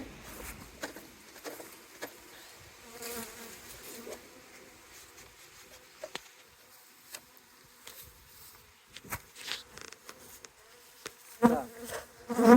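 Honeybees buzz and hum continuously at close range around a hive during late-autumn colony merging, with scattered louder passes and faint tapping in the background.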